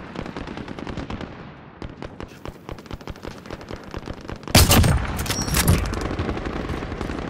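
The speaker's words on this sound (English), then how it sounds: "Receiving hostile fire!" Hostile gunfire in Call of Duty: Warzone, rapid automatic bursts rattling continuously, then heavier, louder close shots and blasts near the end, with no voices.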